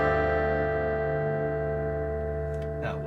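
An Epiphone Casino guitar strikes the F+9 chord from a song's opening, one full electric chord sustaining and slowly decaying, heard alone.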